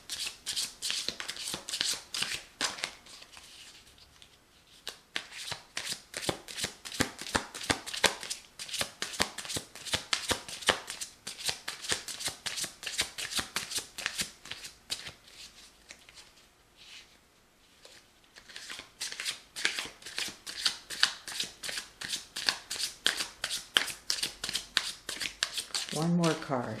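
Tarot cards are shuffled in long runs of rapid riffling flutter and patter, close and steady, pausing briefly around the middle before resuming, with soft talk at moments.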